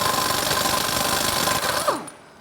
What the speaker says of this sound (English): makes the job a whole lot easier with the air tools